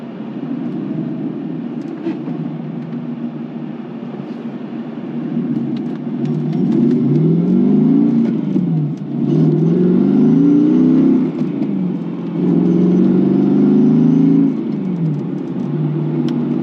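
A Mercedes C55 AMG accelerating on the road from inside the cabin, its engine droning low and then climbing loudly through rising revs, with gear changes and pulls repeating, with no talking.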